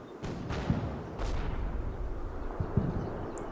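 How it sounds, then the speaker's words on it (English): Mortar fire in a war video game, with dull booming impacts and thuds at irregular intervals over a continuous rumbling battle background, moderately loud and without talk. "Mortar comes in, still trying to spot."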